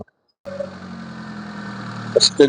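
A car engine starts up after a moment of silence and idles with a steady low hum, with a couple of short sharp noises near the end.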